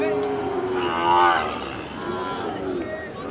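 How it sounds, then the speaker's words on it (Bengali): A young Sahiwal bull, about 13 to 14 months old, tall and lean, moos loudly once at a cattle market. The call is close, drawn out and rises in the middle, with faint crowd noise behind it. "দর্শক এই পাশে একটা ষাঁড় গরু দেখতেছি"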